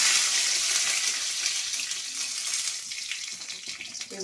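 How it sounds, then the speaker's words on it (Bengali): Panch phoron and dry red chillies frying in hot oil in a kadai give off a steady, close hiss and crackle that thins out slightly toward the end, with no talking. "এগুলো একটু ভাজা ভাজা হোক ভালো করে।"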